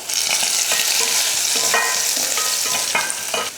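Mustard seeds, crushed garlic and curry leaves tempering in hot oil for rasam, a steady loud sizzle with crackles and scattered pops from the spluttering seeds, close up and continuous with no talk.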